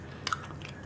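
A crispy, buttery biscuit is bitten and chewed close up, with a sharp crunch in the middle of a quiet moment.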